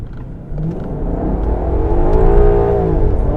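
A Ferrari engine revs up and accelerates, a loud rising rumble and whir that swells steadily with no talking.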